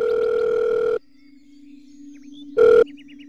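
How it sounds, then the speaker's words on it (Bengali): A mobile phone rings with an electronic ringtone: a long steady tone, a pause filled by a faint lower hum, then a second short burst, close and clear. "আরে সাকারের দল, ফোনটা তো পিক কর।"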